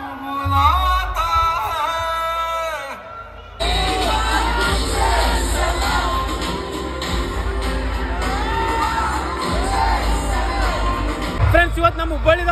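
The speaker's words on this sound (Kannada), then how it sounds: "ಫ್ರೆಂಡ್ಸ್ ಇವತ್ತು ನಮ್ಮ ಹುಬ್ಬಳ್ಳಿದಾಗ ಮಾತ್ರ ಕ್ರೌಡ್ ಮಾತ್ರ ಫುಲ್ ಹೆವಿ ಐತೆ ನೋಡ್ರಿ." Dense crowd cheering and shouting at a Ganapati immersion procession in Hubli, a loud continuous roar of many voices with whoops, and music or chanting heard at the start before the crowd noise surges in.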